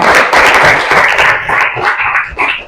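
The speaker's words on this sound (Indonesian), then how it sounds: "tepuk tangan buat Astia." A sixth-grade class claps loudly for a classmate, a close, busy patter of small hands lasting under three seconds, with scattered sharper claps standing out near the end.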